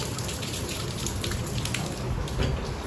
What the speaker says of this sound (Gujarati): બહાર વરસાદ છે ને જોવા વરસાદ ચાલુ છે અત્યારે